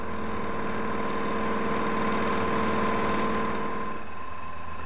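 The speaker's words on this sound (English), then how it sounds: "the section from the billet has to be turned to form a cylinder onto which the tracing pattern will be cut" Turret lathe turning a metal billet into a cylinder with a tungsten carbide cutting tool on the cross slide, a steady loud machine hum with a constant tonal whine and faint rhythmic vibration throughout.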